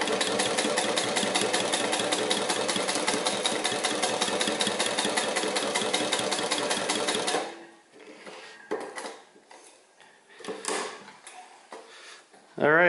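A 1939 Singer 31-15 industrial sewing machine with a servo motor stitches through marine vinyl in a fast, steady mechanical clatter for about seven seconds. It then stops, leaving quiet handling noises and scattered clicks.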